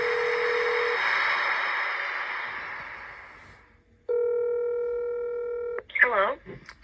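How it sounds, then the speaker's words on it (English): Telephone tones on a radio call-in prank segment: a steady dial-type tone fades out, then a clear multi-tone ring or dialing signal plays for a couple of seconds, followed by a warbling ringback burst. "It's another Jubal phone prank"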